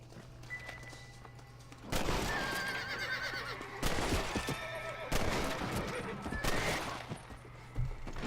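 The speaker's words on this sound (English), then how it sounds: "I like that the horses freak out." Horses neighing and whinnying in panic within a video game, several loud, close whinnies rising over bursts of gunfire and hoofbeats, with game sound beneath throughout.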